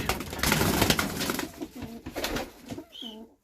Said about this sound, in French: Ça c'est un pigeon de Ankara.